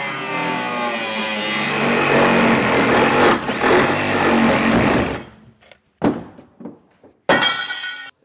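A power cutting tool slices away the hatch channel in the bed of a 2018 GMC truck, a loud continuous grinding whine for about five seconds, followed by a few short bursts and thunks.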